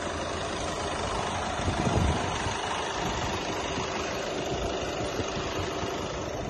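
A Hyundai Verna 1.6 CRDi four-cylinder diesel engine idles steadily, a close, even, low rumble with a slight diesel clatter that holds unbroken and without talk.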